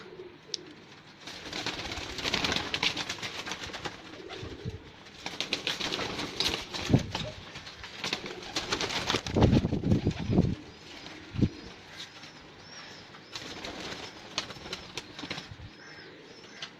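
Pigeons in a keeper's loft, busy with soft cooing and repeated bursts of flapping wings at close range, steady bird activity throughout with no talk.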